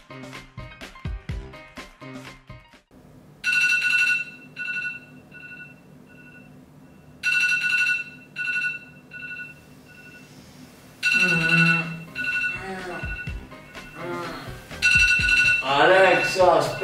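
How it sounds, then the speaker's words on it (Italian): A repeating electronic alarm tone sounds in bursts from a bedroom alarm, bright beeping patterns recurring every few seconds, with a person talking loudly in between. "Alexa, spegni la sveglia!"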